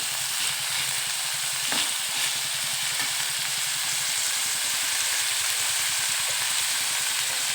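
Tomatoes fry in a pan with a continuous loud, close sizzling hiss and rapid fine crackle, steady throughout with faint scrapes of stirring and no talking.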